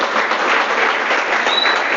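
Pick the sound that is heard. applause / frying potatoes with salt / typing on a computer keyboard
applause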